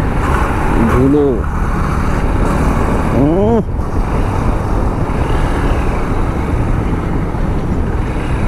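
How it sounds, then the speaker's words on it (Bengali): Loud, steady road and engine noise as a motorcycle rides past on a dusty road, continuous throughout with brief voices talking near the start and middle. "দেখো বাইক নিয়ে যাচ্ছে ধুলো উড়াতে"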